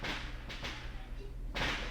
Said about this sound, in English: I hate fireworks so bad.